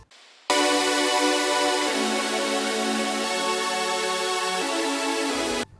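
A thick, buzzy synth chord from a drum and bass track in FL Studio sustains loudly for several seconds, shifting once to a new chord before cutting off abruptly.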